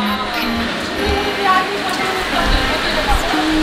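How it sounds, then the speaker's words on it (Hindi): Heavy rain pours down in Patna, making a steady, dense wash of hiss and patter throughout, with people talking over it. "बारिश हो रही है ना बहुत तेज।"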